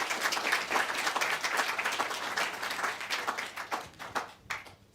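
Audience applause for panelists at a health equity workshop on persons with disabilities, a dense patter of many clapping hands that thins and turns into scattered, uneven claps before fading out.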